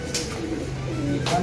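Pigeons on a rooftop cooing softly, a couple of low murmuring coos against steady background noise.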